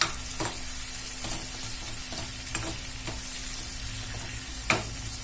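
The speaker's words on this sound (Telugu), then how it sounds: "ఇవి చక్కగా వేగుతున్నాయి కదా మనం ఇలాగా నూనెలో మగ్గించుకోవాలన్నమాట" Tamarind pickle ingredients fry in oil with a continuous sizzling hiss, broken by occasional clinks and scrapes of a stirring spoon against the pan.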